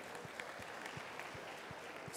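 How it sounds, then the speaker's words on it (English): Light, scattered clapping from a few people at a line-dance class, soft and brief, with faint room noise. "Give yourself a round of applause."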